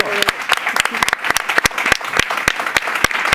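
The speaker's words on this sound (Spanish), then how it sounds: "¿Oís el aplauso?" Applause from a live audience of about 140 people, a crisp, uneven patter of individual claps close by, with sharp separate hand strikes standing out.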